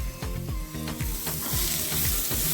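Garlic, ginger and green chilli fry with popped cumin seeds and asafoetida in a hot pan for hara bhara kabab, giving a loud, steady sizzle broken by rhythmic stirring scrapes, with no talking.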